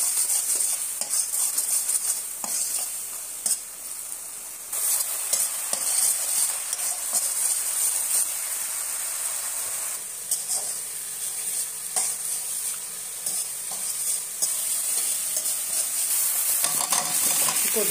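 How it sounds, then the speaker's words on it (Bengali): Chili powder, coriander powder, salt and other spices are sautéed in a pan for a gourd and fish curry, with a steady bright sizzle and repeated scraping from a stirring spoon, close and continuous. "মরিচের গুঁড়া, ধনিয়া গুঁড়া, লবণ, তারপরে ভালো করে কষিয়ে নেবেন।"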